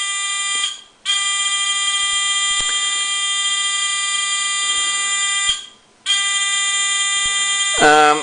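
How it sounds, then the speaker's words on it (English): A fischertechnik driving robot's buzzer gives a loud, steady electronic tone that stops briefly twice and then resumes, ending with a short warbling sweep. "now the buzzer is going on while the lamps are not functioning or doing anything"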